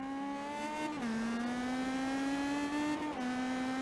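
An Indy Pro 2000 race car in iRacing at Barber Motorsports Park: a steady high engine whine that dips sharply twice as the driver blips off the throttle uphill, then climbs again, loud and close with no talking.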